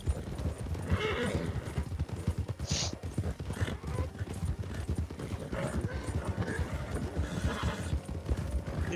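A horse in the Red Dead Online video game trots with rapid, close clip-clop hooves and gives a few whinnies, alongside mechanical clicks and faint background sounds.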